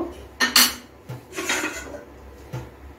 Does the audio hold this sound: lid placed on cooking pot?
yes